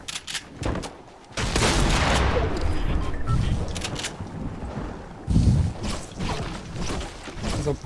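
Fortnite gunfire during a fight: several sharp single shots early, then a sustained loud stretch of rapid firing and impacts, with more bursts toward the end under game noise.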